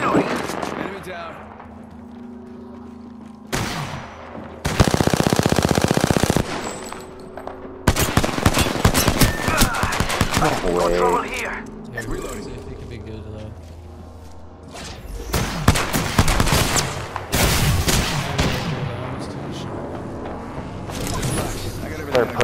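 Shotgun blasts and other weapon fire in Apex Legends come in loud, heavy bursts separated by quieter gaps, with players talking over the intermittent combat.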